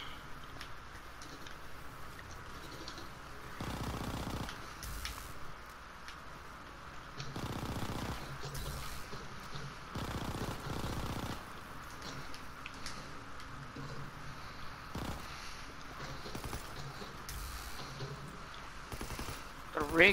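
Rapid gunfire from a gun in a video game crackles in repeated bursts over a steady game soundscape, with a voice talking at times.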